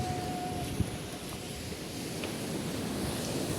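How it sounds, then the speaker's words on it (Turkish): Rough sea surf churns steadily in the background, a continuous washing roar mixed with wind buffeting the microphone. "deniz çok dalgalı bakın"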